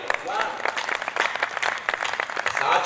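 An audience at a political speech in a town claps together, producing dense, fairly loud applause that swells and holds for a few seconds, with voices mixed in among the crowd.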